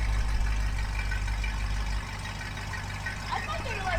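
A Dodge 318 V8 idling through Raptor mufflers, a low, steady rumbling burble up close, with people talking over it.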